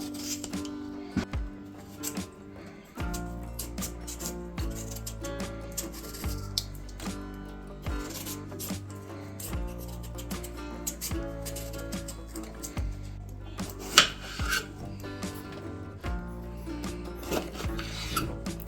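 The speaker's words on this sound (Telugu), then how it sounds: "మనం ఇలా ఫస్ట్ ఆనగాయ మీద చెక్ తీసేసుకొని" Skin being peeled off a bottle gourd in a kitchen, heard as steady close rasping scrapes in repeated strokes, set against continuous background music.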